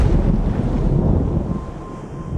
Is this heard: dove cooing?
no